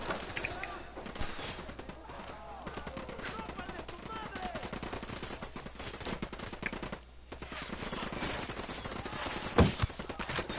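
Rapid bursts of gunfire from a Ghost Recon Wildlands co-op firefight crackle continuously, dense volleys with a brief lull, then a sharp louder shot near the end; voices talk over the shooting.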